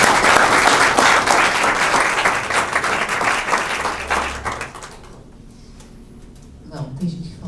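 Audience applause at a closing panel of an intellectual property conference, loud and crowded at first, then thinning out and dying away into near quiet with a few scattered sounds at the end.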